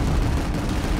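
Rocket blasts from the Planetside 2 video game come as a dense, loud, continuous rumbling roar over a short stretch, without separate distinct bangs.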